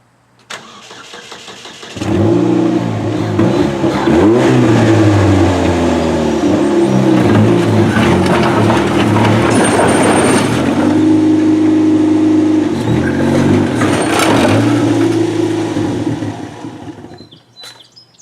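A wrecked Chevrolet HHR demolition derby car cranks and its engine fires, idling roughly and revving loudly and steadily up close before cutting off near the end, with no talking.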